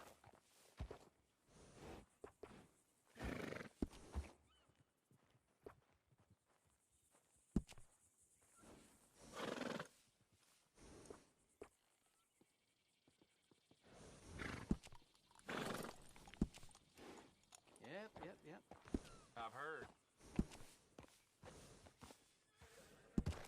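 Horse in the video game Red Dead Redemption 2, with hoof clip-clops, snorts and a neigh coming in irregular bursts at close range over a quiet stretch.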